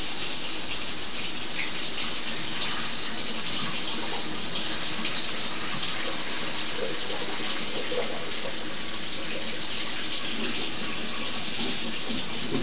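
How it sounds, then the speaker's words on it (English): Cold water runs from a kitchen tap in a steady, loud gush that continues unbroken, close by and with no talking over it. "Now I'm going to put on the cold water and pour some more of this out."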